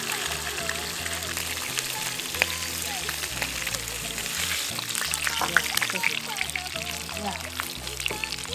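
Chicken browning in a pan with sauce for chanka seca de pollo, giving a steady, moderately loud frying sizzle that runs throughout, with a brief spoken word and a faint tonal background underneath.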